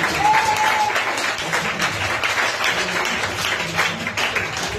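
A church congregation applauds the Lord with dense, sustained clapping that fills the room, loud and steady, and a voice rises briefly above it.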